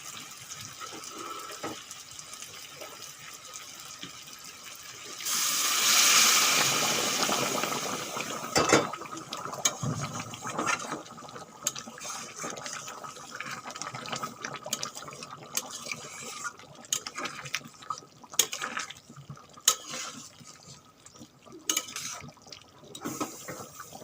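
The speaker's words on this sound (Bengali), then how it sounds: "এখন আমি এই যে গরম জল দিয়ে দেবো" Hot water is poured into a pot of browned mutton curry in a kitchen, a short rushing splash rising for a few seconds, followed by softer clinks and handling noises with no speech.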